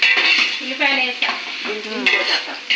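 Onions tossed into a pan of water and oil sizzle steadily while a spoon stirs and scrapes through them in repeated bursts, close and loud, cooked in a temple kitchen.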